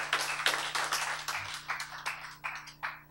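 A church congregation claps in distinct rhythmic bursts, a short run of fairly loud hand claps over a low steady hum, slowing and thinning toward the end.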